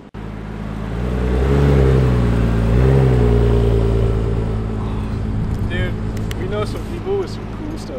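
An Acura NSX supercar on a downtown Phoenix street revs loudly and close, its engine note swelling and dipping twice before fading into a lower drone as people talk excitedly over it.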